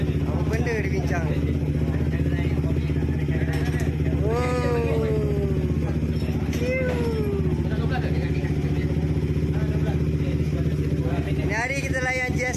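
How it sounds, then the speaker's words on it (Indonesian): A Suzuki motorcycle engine idles and runs with a steady low droning hum throughout, close and loud, while people talk over it and a few voice-like warbling tones rise and fall. "Inilah dia motor Suzuki yang di anak tiri kan"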